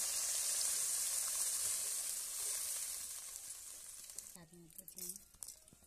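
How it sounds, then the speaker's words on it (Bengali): Tamarind water poured into a pan of frying prawns and eggplant for a Bengali sour tok, giving a bright loud sizzle that slowly fades, then a person talks over the quieter bubbling. "এবার বন্ধুরা তেঁতুল জলটা ঢেলে দিলাম এর মধ্যে"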